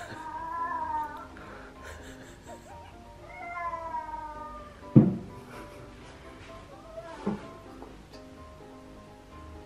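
Several house cats meow and yowl in drawn-out, wavering cries close by, broken by a couple of sharp thumps and rustles as they struggle against being hugged.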